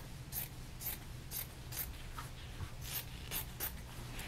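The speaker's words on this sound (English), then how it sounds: "I'm just gonna go here and cut it roughly to the other end." Scissors cut roughly through fabric layers for a tissue box cover, a series of about ten soft, crisp snips at a steady pace, close but quiet, with no talking.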